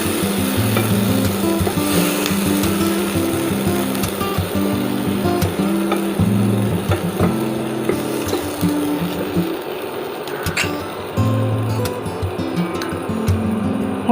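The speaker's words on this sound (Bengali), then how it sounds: "একটু ভালো করে কষিয়ে নেব।" Koi fish curry masala is stir-fried in a pan, a constant loud sizzle under rhythmic scraping and knocking of a spoon against the pan, close by and without talk.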